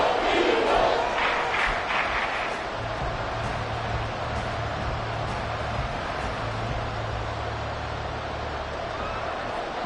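Jacksonville Jaguars preseason football stadium crowd roaring and cheering late in a game, a loud surge at the start settling into a sustained distant roar, with a low droning tone running underneath.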